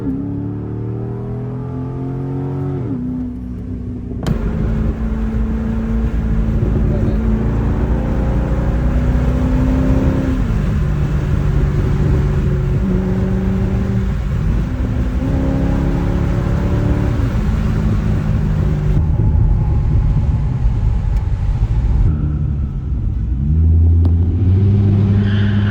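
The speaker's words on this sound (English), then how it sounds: "You guys want one more downshift?" A Corvette Z06 downshifts and revs hard, engine pitch climbing and dropping in repeated loud sweeps, with blips between gears and a sustained roaring pull near the microphone.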